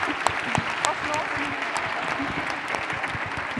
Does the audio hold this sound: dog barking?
no